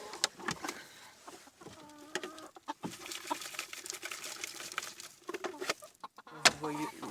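A red hen and other chickens cluck in a henhouse in irregular close bursts and short calls, with light rustling and clatter in the background.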